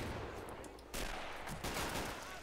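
Rapid gunfire and mortar shell impacts in the World War II strategy game Men of War, a faint dense crackle of shots punctuated by two heavier bursts.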